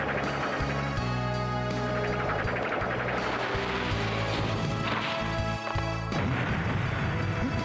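Grenade explosions in the Vampire Hunter D video game, heavy crashing booms and thuds repeating over loud continuous game music.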